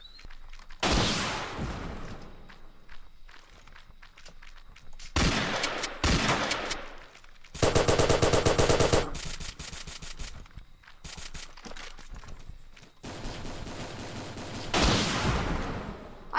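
Long-range hunting rifle gunfire in a Roblox Fortnite-style shooter game, several loud separate bursts of shots spread across the stretch with quieter gaps between them.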